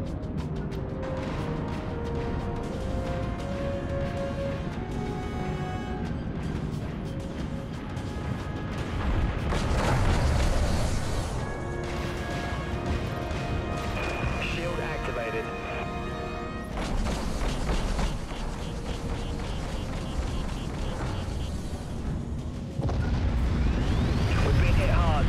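Vulture missiles launch and burst in the Dreadnought video game, with heavy explosive blasts and mechanical rumbles layered over tonal game sounds, the loudest bursts coming in several separate surges.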